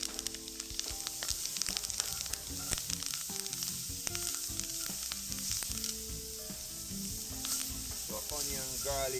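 Spices dropped into a hot pot over an outdoor fire sizzle and crackle continuously, with occasional stirring clinks under faint background music.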